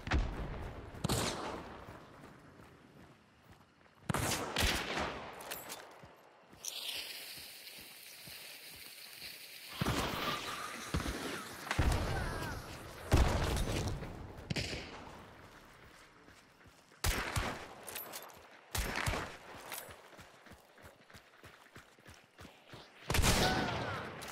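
Gunfire barrages in the video game Hunt Showdown: bursts of loud shots crack out in irregular clusters, with rapid volleys and single blasts separated by quieter stretches of distant echo.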